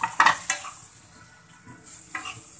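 Potato and chickpea chaat mixture frying over a high flame, with a few stirring scrapes and clinks of a spoon against the pan over a steady, close sizzle.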